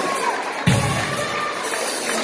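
Concert crowd cheering and applauding in a steady, dense wash of noise, with a brief louder burst of shouting partway through; no single voice stands out.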